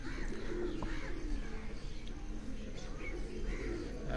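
Rare Kashmiri pigeons on a rooftop loft coo softly and repeatedly at close range under a low background rumble, with faint chirps scattered among the calls.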